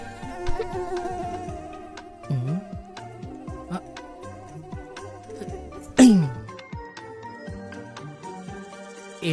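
A mosquito whines in a room at night, its thin high buzz rising and falling as it flies around, with a few soft thumps and clicks breaking in. No one speaks.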